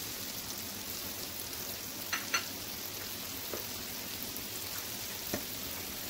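Diced onions fry in melted butter on a stove set between medium and low, giving a steady soft sizzle with a few small pops and crackles and no talking.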